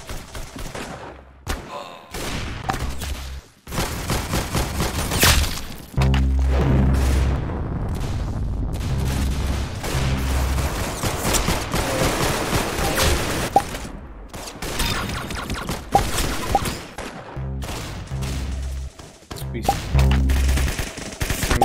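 Rapid gunfire bursts and heavy booms in the Roblox game Arsenal, loud repeated volleys with brief pauses, with occasional talk in between.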